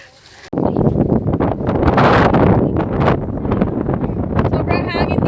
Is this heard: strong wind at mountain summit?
yes